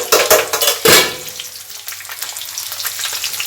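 A handful of chopped onion fries in a pan for a fish-head cabbage dish, with loud stirring and scraping at first, then a steady, softer sizzle.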